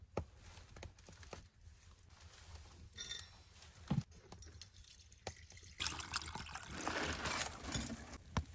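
Clean water is poured into a pan for cleaning in an underground prepper home. Quiet, uneven trickles and drips build to a fuller, louder pour near the end, with no voices.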